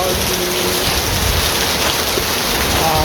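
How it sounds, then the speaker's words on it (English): Steady rain falls outdoors all around, a dense, loud, even hiss of drops that stays constant with no pauses. "It is raining all around me."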